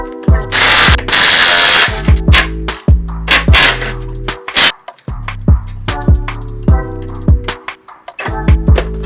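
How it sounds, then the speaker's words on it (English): Ratchet clicking repeatedly while removing the strut bar from a Nissan 350Z engine bay, rapid pawl ticks in bursts with metallic clanks between, loud and close, no talking. "we'll go ahead and take off the strut bar"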